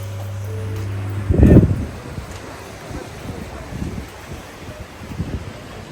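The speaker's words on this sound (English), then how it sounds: "It is a little windy today" Wind buffets a microphone outdoors in low rumbling gusts, with one strong blast early on and softer gusts after.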